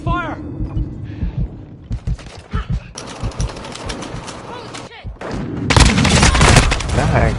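Gunshots and automatic fire in the Modern Warfare shooter come in separate sharp shots, then long rattling bursts that grow louder toward the end, with a player talking over the exchange.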